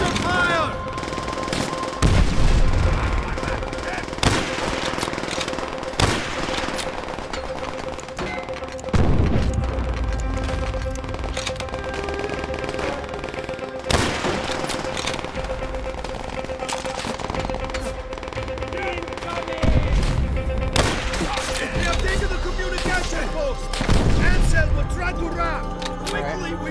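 Heavy gunfire from a Call of Duty: World at War battle after a soldier's order, with repeated loud bursts, booms and sustained volleys filling the scene while voices shout beneath.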